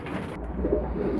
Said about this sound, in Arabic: لو شفنا كده دي الحمامة